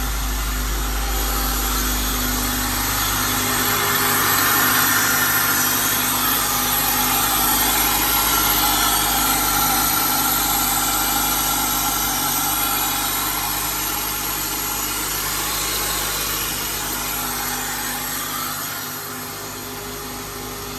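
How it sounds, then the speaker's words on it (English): A Honda Element engine idles steadily after a cold start, a continuous close mechanical hum with broadband hiss that holds level for about twenty seconds, then eases slightly toward the end as it begins to smooth out. "That's a cold, cold start."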